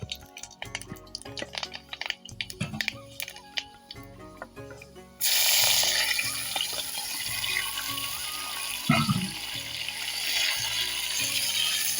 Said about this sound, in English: The spices and the condiments are now frying in the hot oil.